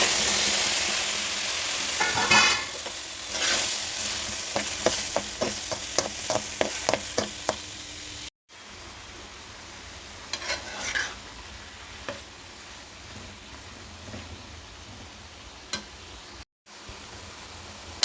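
Cut tomatoes cooking in a dry pan without oil, with a spatula stirring in a quick run of rhythmic scrapes and then sparser strokes over a low, steady sizzle, close and alone.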